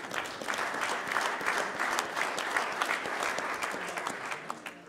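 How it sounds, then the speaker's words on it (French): Steady applause from a crowd, dense clapping sustained throughout at an even level, tapering slightly at the end. "On peut vous applaudir."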